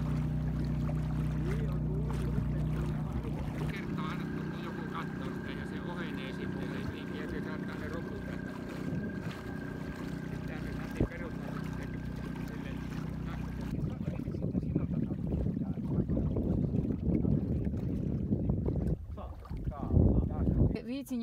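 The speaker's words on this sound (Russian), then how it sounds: "Включили опять моторчик." A small sailboat motor drones steadily while the boat moves across a calm sea in the Gulf of Bothnia, with wind noise and water sounds and people talking over it.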